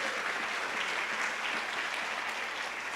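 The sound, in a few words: congregation applause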